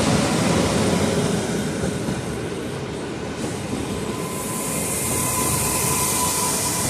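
Trains moving through Kraków Główny railway station, a loud continuous rumble of rolling wagons with wheel noise and a faint squeal, steady throughout without voices.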